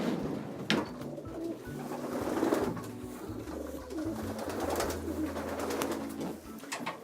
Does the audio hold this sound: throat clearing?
no